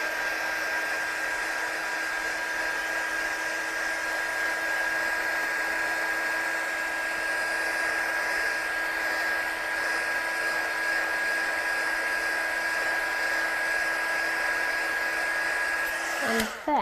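A hair dryer runs continuously on a stamped stencil design in a craft setting, a steady, close whirring blow that holds for about sixteen seconds and cuts off abruptly at the end, with no talking over it.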